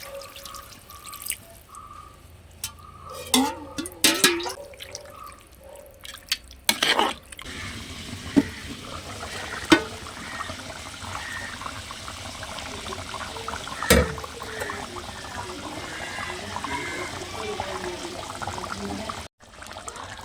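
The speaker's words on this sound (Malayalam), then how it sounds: "വേവാൻ ആവശ്യത്തിന് വെള്ളം ചേർത്തെടുക്കുന്നു." Water poured into a pan of chicken curry, with a steady trickling splash and a few sharper knocks, close and moderately loud, with no talking.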